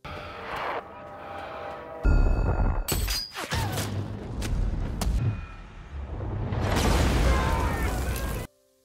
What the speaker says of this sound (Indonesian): granat meledak sebelum mengenai konvoi militer